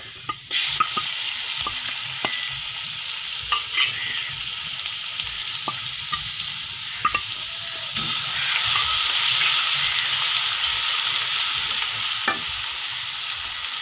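Garlic and ginger paste being fried and stirred in a pan for aloo palak potato and spinach curry, a steady close sizzle with frequent scraping clicks of a spoon, and no talking.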